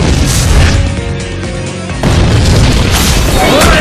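A boom-like explosion attack from the Naruto Online video game, with a loud blast at the start and another burst about halfway through over continuous dense game effects.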